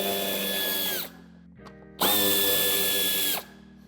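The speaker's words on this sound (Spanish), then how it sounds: "tenemos que aflojar los dos tornillos de Torx de 25" A power drill loosens Torx 25 screws on the bumper of a 2024 Mercedes-Benz V-Class: two loud, steady whirring bursts, each about a second or more, separated by a short pause with a faint click.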